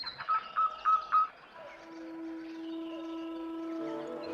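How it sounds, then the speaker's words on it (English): Birds singing in the trees of a wood: a quick run of bright, repeated chirps followed by sustained clear whistled notes, close and alone. "she listened to the birds in the trees as they sang their sweet songs"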